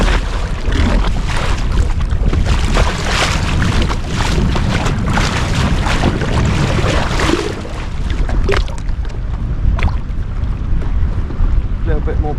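A small motor drives a bellyboat at sea, with weed caught around the propeller making it wobble. The engine drones loudly and continuously under buffeting wind noise and water splash, easing slightly near the end.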